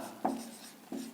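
Chalk or marker strokes on a board during a Pythagoras theorem geometry lesson, two short scratchy writing bursts separated by a pause, close and moderately loud in a quiet room.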